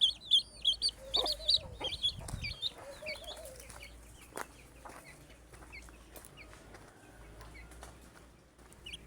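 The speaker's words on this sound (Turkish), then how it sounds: "Diğer civcivler de çalıların üstünde." A hen clucks and chicks peep in short, scattered bursts, with a soft flutter of wings near the start, close by outdoors among bushes, fairly quiet against low background noise and no talking.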